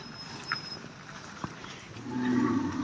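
Bulls gathered at a bullock-cart race ground give a low moo near the end, rising over steady outdoor crowd murmur and scattered faint noises.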